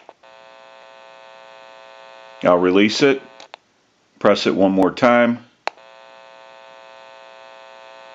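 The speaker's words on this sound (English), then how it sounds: "You may hear a little bit of an electrical hum." Amplifier in a Mickey Mouse novelty telephone under repair, giving a steady, buzzy electrical hum with many harmonics that starts and stops; someone talks over it in two bursts while it cuts out.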